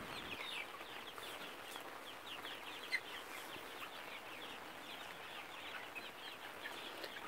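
Young chickens cluck and murmur softly in a steady stream of short calls, close by and unhurried, with one brief sharper note partway through and no talking.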